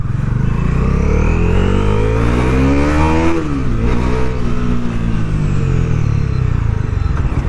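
A 2025 Bajaj Dominar 400 motorcycle engine is revved hard to high RPM. The loud, close roar climbs, dips briefly in the middle, then climbs again and holds steady.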